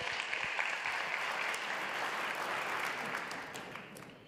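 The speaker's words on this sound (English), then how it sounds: "A round of applause, please." Sustained audience applause at a sustainability talk on space, a steady dense wash of clapping from a sizable crowd that holds evenly and then tapers off slightly toward the end, with no talking over it.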